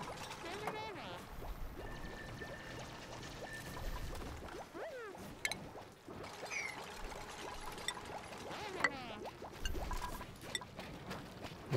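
Water flows into a dug-out area in the video game Oxygen Not Included, making a soft pouring trickle beneath chirpy game sound effects, with a voice talking at times.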